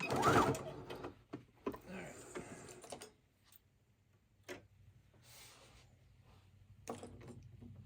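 A sewing machine back stitches a door hanger in short mechanical bursts of whirring and ticking, with pauses between them and faint background noise.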